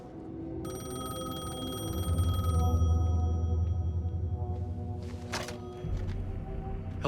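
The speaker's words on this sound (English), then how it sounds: "The payphone was ringing." Payphone in Alan Wake 2 ringing, a bright electronic bell tone repeating over a low droning ambience, followed by a short burst of clatter near the end.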